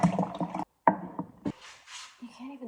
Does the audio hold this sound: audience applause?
no